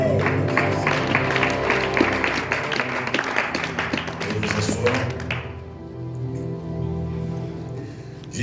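Church congregation applauding as they sit down, dense clapping over music for about five seconds, then fading and stopping while the music continues.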